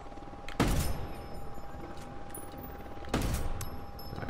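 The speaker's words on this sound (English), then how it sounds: "I'm going to shoot down that helicopter" Gunfire aimed at a helicopter in the Ghost Recon Wildlands video game: two loud bursts of shots stand out against a steady background drone, with faint scattered clatter between them.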